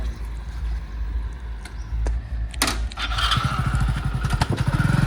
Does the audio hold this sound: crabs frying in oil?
no